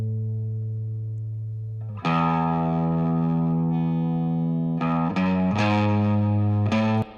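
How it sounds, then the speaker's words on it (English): Sustained electric guitar chords drenched in a wet, splashy spring reverb, with a quiet held tone giving way to louder strummed chords that ring out. "then it's going to the spring reverb"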